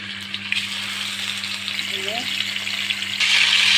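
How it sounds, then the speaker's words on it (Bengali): Fish frying in soybean oil in a pan, a steady close sizzle that swells louder toward the end, with a faint steady hum underneath. "প্যানেতে আমি কিছু পরিমাণে সয়াবিন তেল দিয়ে দেবো মাছগুলো ভাজার জন্য।"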